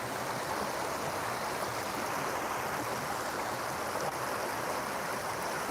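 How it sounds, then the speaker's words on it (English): Continuous rushing water flows steadily at close range, a dense even wash with no pauses and no voices. "the sound of the water is sounding differently"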